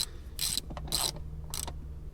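A hand ratchet tightens the rocker cover bolts on a 1.8-litre Mazda MX-5 Miata engine: three short, bright clicking bursts come in even succession, close by, with a low hum underneath and no talking.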